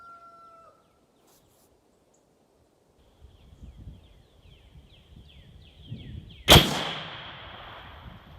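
A single loud lever-action rifle shot cracks sharply outdoors late in the clip and rings off with a decaying echo, after quiet ambient rustling and faint distant birdsong.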